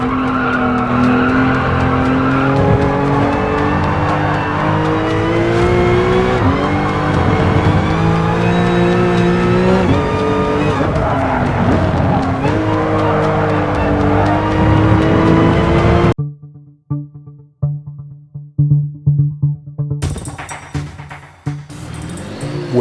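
Porsche CTR3 with a 3.7-liter twin-turbo flat-six races in a sim racing video game, engine howling through rising and falling revs with tire squeal, then cutting off into a silent gap and scattered short bursts.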